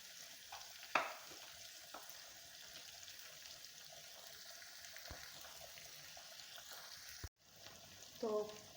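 Onions sizzle and fry in hot oil for a bajra flour kadhi, a steady low hiss with a few clinks and stirring sounds, briefly interrupted near the end.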